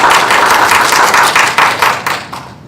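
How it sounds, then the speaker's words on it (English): A crowd claps for Edward, an artist who has just drawn and sketched a horse in five minutes, with dense, moderately loud applause that thins and fades toward the end. "Let's give Edward a round of applause."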